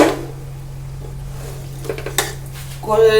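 Meat and potatoes being stirred with spices in a metal pot for a dhaba-style chicken curry, a few close clinks and scrapes of a spoon against the pan over a low hum, ending in a brief louder scrape.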